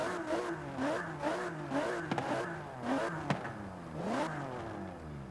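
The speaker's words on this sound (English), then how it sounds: "I think it's probably the petrol engine." A Range Rover Velar petrol engine in Forza Horizon 4 revs up and down repeatedly, rising and falling engine pitch in several surges with gear-change dips, loud and close, no talking.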